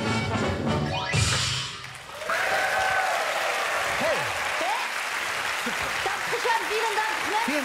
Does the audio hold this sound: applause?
yes